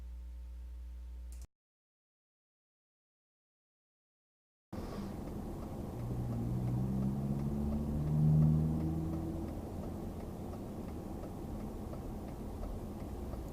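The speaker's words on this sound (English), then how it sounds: "Can you hear the blue car accelerate?" A car engine rises in pitch as it accelerates, heard from inside the vehicle over road rumble, after a brief tone and a stretch of silence.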